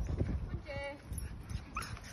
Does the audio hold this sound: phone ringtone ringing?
no